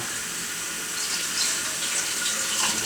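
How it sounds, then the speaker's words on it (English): Tap water runs steadily into a pot being filled for canning kiwi jam, a close, continuous hissing splash with no talking. "we need to get this pot going full of water so that when we have the jam ready, put it in the jelly jars"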